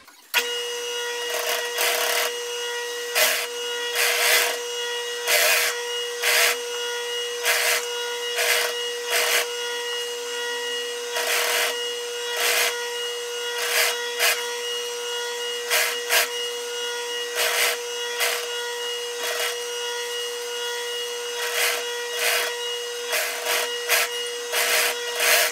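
A sewing machine stitches ribbed knit fabric for a child's sweater in repeated short, close runs of rapid whirring with brief pauses between them, steady hum underneath, and no talking.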